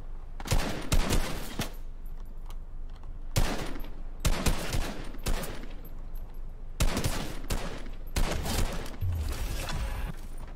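A fast-firing gun in the video game Fortnite lets off several loud, close bursts of rapid shots, each lasting about a second, with short gaps of quieter background between them.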